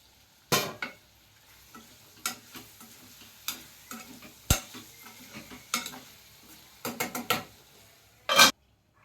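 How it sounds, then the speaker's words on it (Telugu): A spoon stirs fish curry with tomato in a pan, giving sharp, irregular scraping clacks against the metal over a quiet, low sizzle, close by with no talking. "ఇప్పుడు కలుపుకుందాం ఇలా కలుపుకోవాలి"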